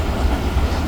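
Subak Raftar railcar train running on rails, heard from inside a carriage as a loud, continuous low rumble and rattle over the track, with no speech.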